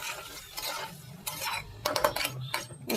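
A spoon stirs spiced jackfruit and fat curry in a pan, giving a run of close scraping strokes and light metallic clinks in an irregular rhythm, with no talking.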